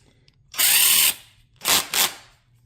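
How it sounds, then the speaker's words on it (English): An electric drill drilling into wood whirs up in one short burst, then two quicker bursts follow, loud and close, with quiet between. "Going to carefully drill here."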